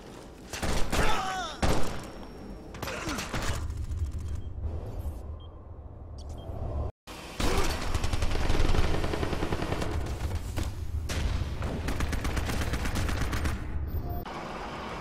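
Heavy gunfire from a firefight at an insertion point in the video game Ghost Recon Future Soldier, with dense bursts and thuds nearly throughout, loud and close, a brief dropout near the middle, no talk.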